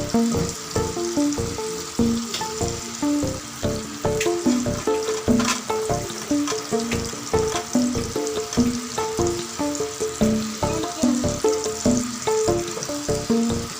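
Masala-coated fish fries in a pan over high flame, giving a steady, close crackling sizzle that runs throughout beneath rhythmic background music.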